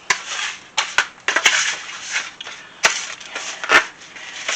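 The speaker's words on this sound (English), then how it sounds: "I got the melted butter in, and you want to mix that with your cookies and get all your cookies wet with the butter" Crushed cookies being stirred together with melted butter for a no-bake peanut butter and M&M pie, giving repeated close gritty crunches and scraping scuffs in uneven bursts.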